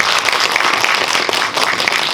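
Steady audience applause fills a small independent cinema after a post-screening talk with a director and an actor, dense continuous clapping at constant loudness throughout, with no voices over it.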